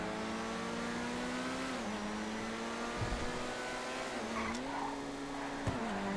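Ferrari 458 Italia GTB supercar engine in a racing video game, a steady high engine drone that dips and climbs as the car shifts, with brief tire squeal bursts, continuous and fairly loud.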